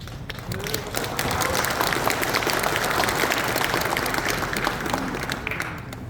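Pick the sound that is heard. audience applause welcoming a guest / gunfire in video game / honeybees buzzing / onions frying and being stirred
audience applause welcoming a guest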